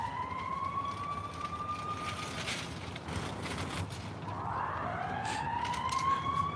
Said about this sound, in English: That's the sirens you hear right now.